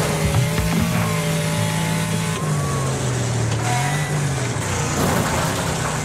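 Cars racing in the video game Wreckfest, with a steady loud engine drone that rises and falls as gears shift, plus tire noise and some scraping, continuous and close throughout.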